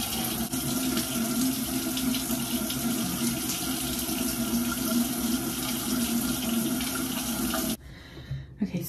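Tap water runs steadily from a bathroom faucet while face cleanser made from aloe gel and cleansing lotion is rinsed off. The flow is close, even and continuous, then cuts off abruptly near the end.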